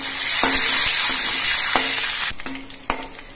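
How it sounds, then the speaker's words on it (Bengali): Nigella seeds and slit green chillies frying in oil make a loud, continuous sizzle, broken by a few sharp stirring clinks that grow more frequent toward the end; no voices. "কালো জিরে আর কাঁচা লঙ্কাটা ভাজা হয়ে গেছে।"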